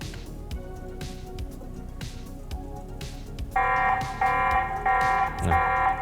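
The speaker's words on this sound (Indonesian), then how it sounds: "tadi barusan dia mendeteksi gerakan dan alarmnya nyala" A repeating electronic alarm tone from a TP-Link Tapo security camera triggered by motion detection sounds in three or four loud bursts, joining a background of scattered clicks and knocks.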